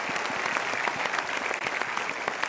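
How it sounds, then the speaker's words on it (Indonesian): An indoor audience at a televised motivational talk show claps loudly and steadily, with dense close applause throughout and no talk over it. "Kita berikan tepuk tangan."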